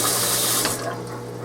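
Water and rice sloshed around in a cooking pot, giving a loud, close, continuous watery rush and swish that eases off slightly toward the end, with no talking.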